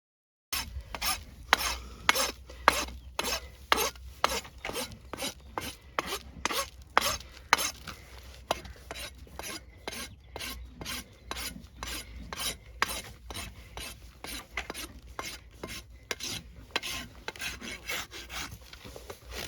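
A rasp is filed across an arthritic horse's hoof wall to round the edge, with steady rhythmic strokes, roughly two per second, sustained for nearly twenty seconds, close and loud with no talk.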